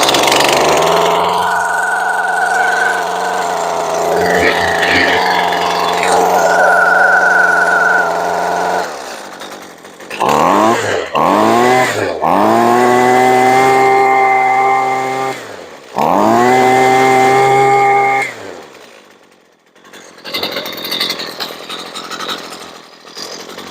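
A Husqvarna string trimmer with a newly replaced carburetor runs loud and close, its small two-stroke engine revving up and down in surges, briefly cutting out between bursts before a final rough idle.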